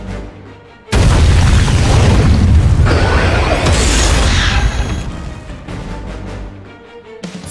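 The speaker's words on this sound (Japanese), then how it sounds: "今の爆発音は" A big explosion at a military port dock from the game Code Geass Lost Stories: a sudden loud boom followed by a long roaring, rumbling blast with debris-like crackle that fades over several seconds.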